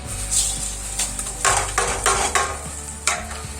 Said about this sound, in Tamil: வறுத்ததுக்கப்புறம் அதே நெய்யில் இந்த ரவையை கொட்டி